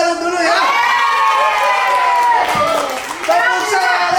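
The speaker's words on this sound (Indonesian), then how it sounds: "mari kita tepuk salut dulu ya" An audience at a school education meeting in Indonesia chants the tepuk salut cheer together, a loud, sustained group of voices calling out in unison, with faint claps mixed in.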